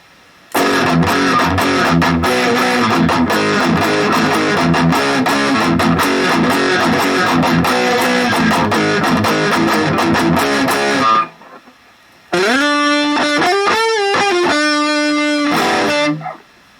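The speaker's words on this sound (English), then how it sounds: "Both pickups with distortion." An AIO Wolf WLP-750T electric guitar on both pickups with distortion plays loud riffing with a dense, thick tone for about eleven seconds, then a short pause and a sustained, bending distorted passage.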